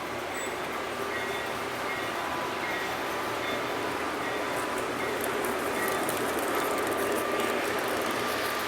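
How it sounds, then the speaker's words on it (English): A model freight train rolls along a layout, giving a steady, faint rattle and whir of small wheels on track that carries on evenly throughout with no talking. "Here comes the freight train."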